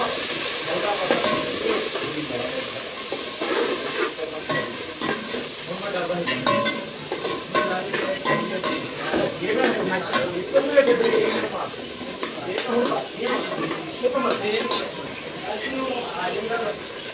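A pot of boiling meat steadily hisses and bubbles, with occasional stirring clatter, as someone talks over the cooking noise.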